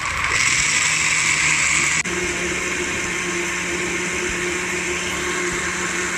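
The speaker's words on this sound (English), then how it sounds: "We boil it a little bit and then we're gonna blend it." An electric blender whirs as it purées boiled pumpkin seeds for a Jamaican strong back energy drink. The motor drones loud and steady, shifting to a slightly different pitch after about two seconds, with no talking.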